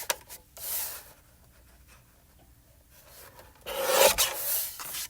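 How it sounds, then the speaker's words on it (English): Paper being cut down to size for a card-making project, with two bursts of rasping, scraping strokes, one brief near the start and a louder, longer pass toward the end, separated by a quiet stretch. "I'm going to cut this down to 5 1/4 by 4 for one piece."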